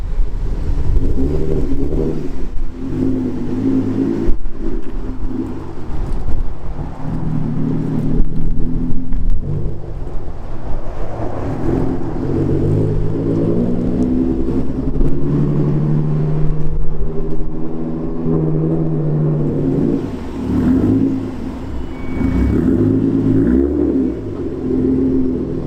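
A Ford Mustang with a supercharged V6 strapped to a dyno, its engine heard from outside the car, rumbling and revving in rising and falling surges with a whirring drone, loud and close throughout.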